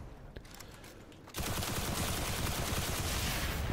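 Video game shooter gunfire, a dense burst of rapid shots erupting suddenly after a quieter stretch and continuing loud and sustained to the end.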